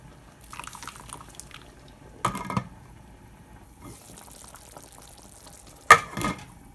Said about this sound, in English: Bring it to boil and let it simmer for 25 minutes.